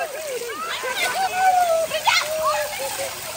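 People splash and slosh in water while bathing during Holi festivities, with irregular close splashes and a voice speaking over them.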